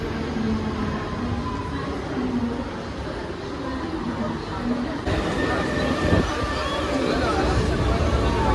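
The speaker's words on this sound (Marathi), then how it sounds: "आली ट्रेन, तर आता बसतो ट्रेनमध्ये आम्ही" A Mumbai suburban local train pulling into a platform, with a steady rumbling rail roar and a brief screech of wheels midway, heard nearby amid crowd and station chatter.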